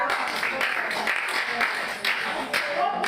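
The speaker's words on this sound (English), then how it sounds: "can we clap for her?" A group at a town hall meeting in a camp claps for a girl, producing a run of sharp, close hand claps that continues evenly.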